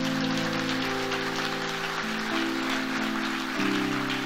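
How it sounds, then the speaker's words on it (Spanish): A church congregation applauding, a dense, steady wash of many hands clapping at once, heard under sustained organ or keyboard chords that shift in pitch. "La iglesia, aplaudimos a Dios por estas vidas."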